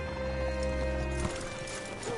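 A horse in Red Dead Redemption 2 clip-clops with several close hoof steps, then gives a loud whinnying neigh that rises and falls, with faint game ambience behind.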